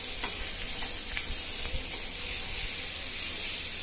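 Potatoes coated in spice masala fry in a pan for a dahi aloo curry, giving a dense, even, close sizzling hiss with a few faint stirring ticks.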